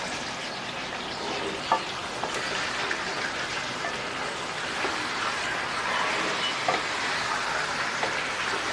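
Chicken frying slowly in a pan with onions for chicken korma, a continuous even hiss with occasional faint clicks of a spoon, close and fairly quiet.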